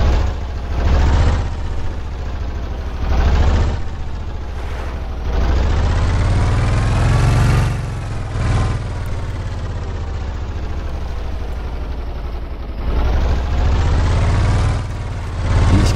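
Motor raft engine in the survival game Stranded Deep, a loud steady droning hum that swells and dips in level over the stretch, running alone with no talk.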